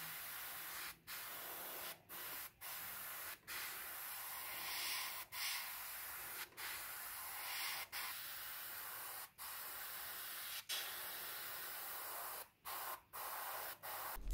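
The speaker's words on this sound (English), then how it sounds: "it's time for a layer of surface primer, the Mr. Surfacer 1500 in this case" Steady airbrush-style spray of Mr. Surfacer 1500 primer onto a 1/72 MiG-17 PF plastic model kit, a continuous close hiss broken by brief stops and restarts.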